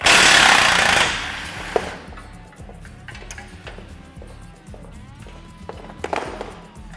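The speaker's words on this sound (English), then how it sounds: "Gonna take off the rear spring shackle now." A power tool works on a vehicle's rear spring shackle, opening with a loud burst of grinding noise, then a rapid hammering rattle and metallic clinks close by, with no talking.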